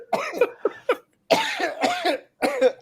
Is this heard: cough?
yes